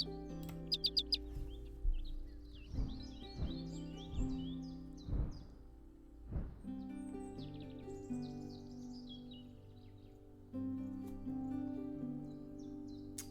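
Synthesized chirps and tweets of an American Goldfinch from the Wingspan digital board game, a quick high twittering burst followed by softer warbling phrases over a low sustained musical backdrop.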